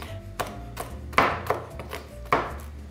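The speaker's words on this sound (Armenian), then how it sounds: "Սա հարկավոր է մանրացնել։" Roasted cashews and almonds chopped with a knife on a board, about five distinct close chops at uneven intervals with soft crunching between them.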